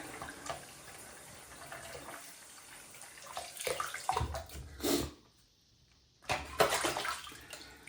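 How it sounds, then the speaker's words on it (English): Water splashes and gushes in uneven bursts, rinsing a plastic 1970 Challenger T/A model kit car body close by, with brief pauses between heavier pours and a quiet gap near the end. "Lots of water to rinse it. Lots and lots of water."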